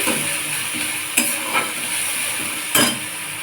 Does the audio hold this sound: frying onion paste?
yes